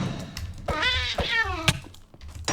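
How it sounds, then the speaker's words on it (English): A wraith mob in modded Minecraft gives off cat-like yowls, a drawn-out meowing wail over soft game thumps and ambient rumble, with no one speaking. "Why are you making cat noises?"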